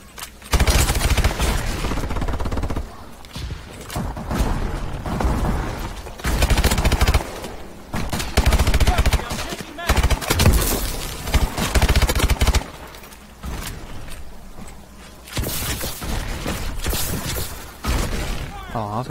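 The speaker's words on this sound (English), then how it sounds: "Who the fuck is shooting me? Yeah, sentry gun." Automated sentry gun fire in Call of Duty: Advanced Warfare comes as loud, repeated bursts of rapid shots separated by short pauses, with game sounds and talking players mixed in.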